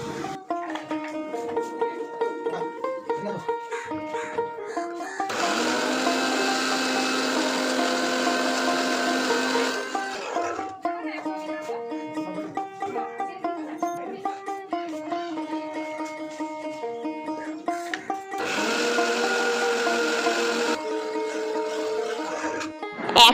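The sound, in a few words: mixer grinder grinding poppy seeds into paste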